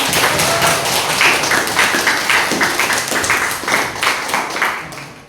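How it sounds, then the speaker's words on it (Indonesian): A school audience claps after a religious lesson at SMPN 1 Muara Telang, a brisk, loud, irregular patter of many hands that rises and falls, close by and without talk. "Ya, tepuk tangan."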